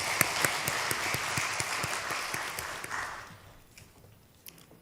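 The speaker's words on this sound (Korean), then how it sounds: "하나님께 영광의 박수 올려드리겠습니다." A congregation claps during a Sunday morning church service, a lively round of applause with some sharp individual claps that fades out after about three seconds, leaving scattered claps in a quieter room.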